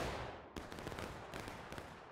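A company of soldiers fires a musket volley in the Civil War game War of Rights, a dense crackling burst of many shots at once with scattered following reports, loud and continuous across the short stretch.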